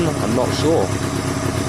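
A Honda CB250 cafe racer motorcycle idling nearby, a steady low engine rumble running under a man's brief speech.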